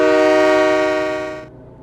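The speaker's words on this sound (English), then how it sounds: "Oh, the horn sounds sweet." A locomotive horn in the Train Mechanic Simulator video game sounds one loud, sustained rich tone that holds steady, then fades out quickly near the end.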